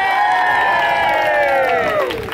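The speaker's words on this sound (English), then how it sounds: "Now cheer for the guy doing the work." An outdoor audience at a Medieval Faire acrobat performance cheers loudly and steadily, with whoops and high shouts over a dense crowd roar that eases slightly at the end.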